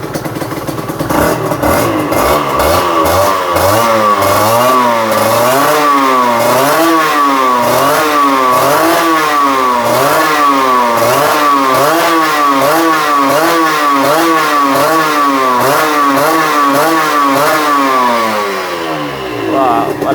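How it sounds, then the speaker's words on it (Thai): A round-headlight NSR motorcycle engine revs loudly and close by, its exhaust note rising and falling in repeated throttle blips over a steady running drone for about twenty seconds. "เสียงท่อถือว่าเสียงใสปิ๊งๆเลยนะ เสียงไม่ดังมาก"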